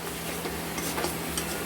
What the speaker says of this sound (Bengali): এটা আমরা ভালো মতো করে কিন্তু কষে নেব।